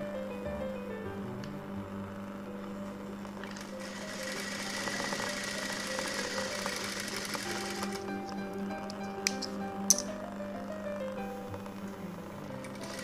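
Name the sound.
sewing machine stitching blouse pieces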